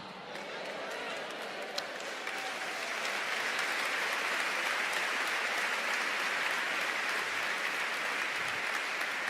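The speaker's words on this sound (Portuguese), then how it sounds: "Espera aí, você aplaudiu?" Church congregation applauding during a sermon, sustained dense clapping that builds and holds steady, with some voices mixed in under it.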